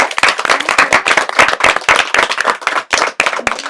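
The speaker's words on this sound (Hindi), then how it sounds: "घर बैठे तालियां इन बच्चों के लिए बजनी चाहिए।" Loud, brisk clapping for children at a Holi celebration in a school setting, dense close hand claps in quick succession with no talk over them.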